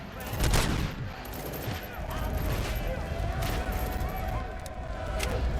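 Sustained gunfire from a firefight with prisoners in the Robocop: Rogue City video game, a dense rattling fusillade of shots with a heavy burst near the start, steady and fairly loud, with talking mixed in.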